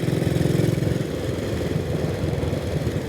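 A 1932 Vincent Model P motorcycle engine runs smoothly, a steady, even low mechanical drone that holds constant, close and fairly loud, with no voices.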